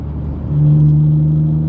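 A 2015 BMW M4 accelerates along a twisty road, its engine a steady low drone that swells louder about halfway through and holds there, close and alone with no talk.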